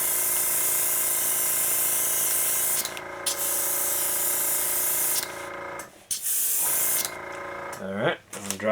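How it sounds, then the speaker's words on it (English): An airbrush sprays paint onto a scale model build in a steady, close hiss that cuts out briefly a few times, with a voice heard near the end. "I'll put my airbrush down for a minute."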